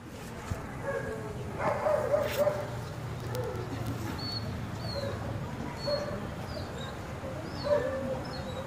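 An old dog gives faint whimpers and soft barks, with pigeons cooing now and then and voices in the background.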